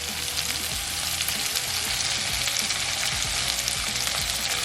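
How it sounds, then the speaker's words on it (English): Onions and rajas, strips of chile, sizzling and frying in a pan, a steady loud crackle with occasional stirring scrapes, close up and without talk. "now that we have the onions a little bit cooked, we're gonna go ahead and add our rajas"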